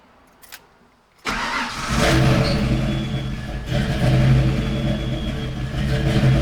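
A car engine cranks and catches, then settles into a loud rumbling idle with slight surges in revving.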